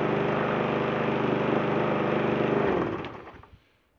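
A small lawn mower engine drones steadily at a constant pitch, then cuts off and sputters to a stop, leaving near silence.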